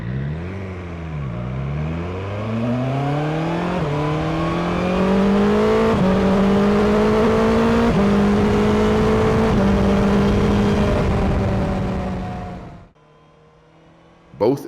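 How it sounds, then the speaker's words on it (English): BMW S 1000 XR and Ducati Multistrada V4 motorcycles accelerating hard, engine pitch rising repeatedly through several gear changes over a sustained loud roar before cutting off abruptly, with a brief clunk at the end. "the acceleration sound of both bikes brings a big smile to your face"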